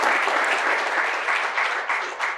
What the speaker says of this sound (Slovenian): mi pa vas vabimo samo na pomoč z aplavzom